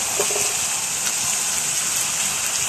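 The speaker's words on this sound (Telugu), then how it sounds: "ఇప్పుడు బంగాళదుంప ముక్కలు వేసుకుందాం" Potato pieces tipped into a frying pan of carrots, a loud dense hiss of oil spitting and crackling, close and unbroken like heavy rain, with no speech.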